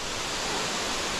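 Kamieńczyk waterfall in Szklarska Poręba gives a constant, dense roar of rushing water, loud and close with no pauses.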